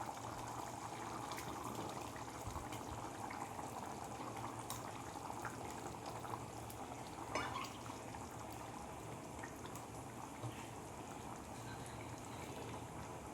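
Village-style meen kuzhambu, a fish curry, bubbling steadily in a pot, a continuous close boiling and gurgling with no talk over it.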